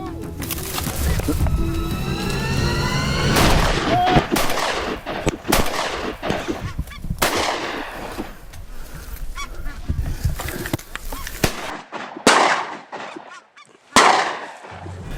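Snow geese honking in a loud, overlapping flock chorus during a migratory bird hunt in Saskatchewan, with sharp shotgun blasts breaking in toward the end and hunters calling out over the birds.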